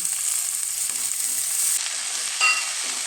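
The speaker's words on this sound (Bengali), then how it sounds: "টমেটো আমি এইভাবে একটু তেলের মধ্যে দিয়ে নরম করে নিচ্ছি" Chopped tomatoes fry with onions in hot oil, giving a steady close sizzle and hiss, with a brief stirring scrape partway through and no voices.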